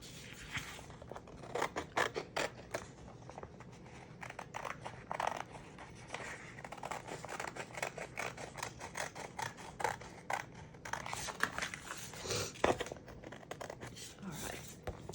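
Scissors snip around a circle cut from epoxy board backing material, a quick irregular run of close, crisp cuts and paper rustling, with occasional quiet talk.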